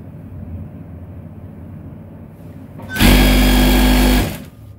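A sewing machine stitches boxer shorts fabric in one loud, fast burst of just over a second after quiet room noise.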